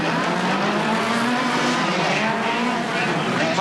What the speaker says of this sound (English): Hart, though, has taken the lead and has raced to about 2 Super 1600 length over Kevin Smith.